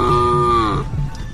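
A boy imitates a buffalo's moo with one sustained, low, nasal lowing call that tapers off, close and loud with no other talk.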